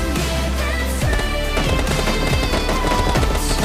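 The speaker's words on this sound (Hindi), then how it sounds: "मेरे टीममेट्स कार को देखते ही फायर करने लग गए।" Rapid automatic gunfire rattles in close, dense bursts as teammates shoot at a car in PUBG Mobile Lite, with the shots running loud and nearly continuous across the short stretch.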